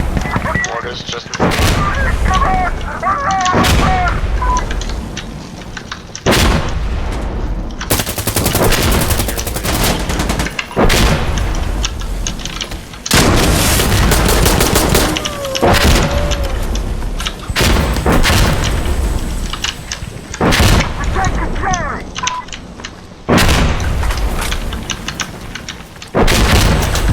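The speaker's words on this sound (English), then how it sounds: "Mortars just." Repeated loud mortar blasts and bursts of gunfire in the video game Insurgency Sandstorm, on the Outskirts map during a Push round, with sharp impacts recurring throughout and an irregular rhythm of heavy booms and rattling shots.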